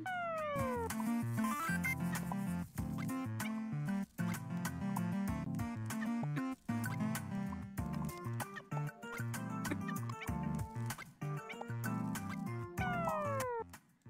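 Cats meowing in the video game Cat Cove Inn, layered over continuous upbeat game music, with repeated short meows and a few rising sweeps across the whole stretch.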